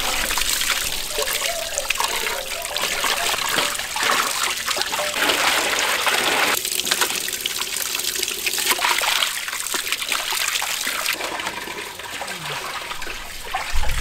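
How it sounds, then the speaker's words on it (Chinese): Beef tripe rinsed by hand under running water, with a steady trickle and splashing of water, sloshing and dribbling continuously at close range with no voices. "把这个这缝隙里边这个脏东西再往外清洗一下"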